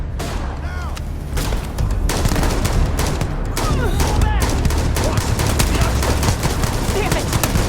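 Rapid gunfire rattles through a firefight in the video game Starfield, bursts of automatic weapons overlapping with sharp single shots, loud and nearly continuous, with a voice shouting briefly beneath the din.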